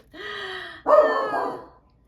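A dog indoors lets out a short whine and then a loud, harsh bark, reacting to a UPS delivery driver at the door; there is no talking.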